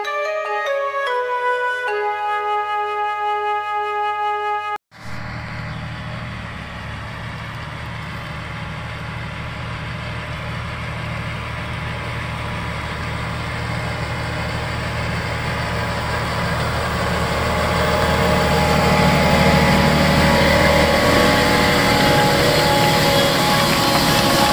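A diesel tractor engine idles steadily and loud nearby, a deep continuous rumble that swells slightly toward the end, after a brief musical tone at the start.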